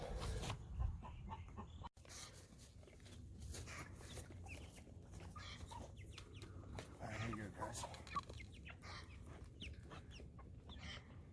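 Cornish Cross meat chickens cluck and murmur nearby over an uneven outdoor background, with scattered sharp clucks and occasional louder calls throughout.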